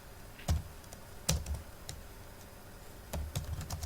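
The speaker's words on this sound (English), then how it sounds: "now type your letter" Keys on a computer keyboard clack in short, irregular bursts as a letter is typed, quiet and close, with pauses between the clusters of keystrokes.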